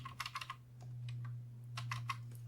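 Quick bursts of typing on a computer keyboard, a fast cluster of close key taps at the start and another short run near the end, over a steady low electrical hum, with no talking.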